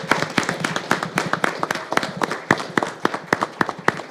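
A small group at a school board meeting claps, with distinct, uneven individual hand claps rather than a dense wash, fairly close and moderately loud for about four seconds.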